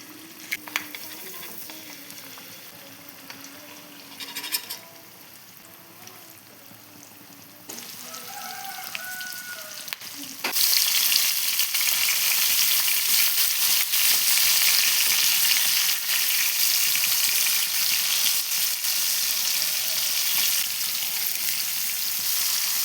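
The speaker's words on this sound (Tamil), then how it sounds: "இப்போ எண்ணெய் சூடானதும் கருவேப்பிலை சேர்த்துக்கலாம். மீன் பொரிச்சிக்கலாம்." Fish pieces fry in hot oil with curry leaves for a coconut milk fish curry: a gentler crackle at first, then a loud, dense, continuous sizzle close by, with occasional light stirring.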